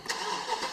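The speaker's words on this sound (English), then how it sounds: "as that fires up dual exhaust, and the V8 is nice" A 2006 BMW 650i with its V8 and dual exhaust fires up, a short burst of broadband engine roar that settles into a steady, moderately loud mechanical hum close by.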